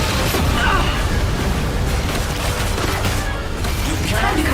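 Bombs exploding in Genshin Impact during the Song of the Welkin Moon event: a loud, sustained wall of booming blasts and crashes, with a faint voice partly buried beneath it.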